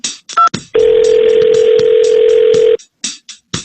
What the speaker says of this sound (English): Making the phone call.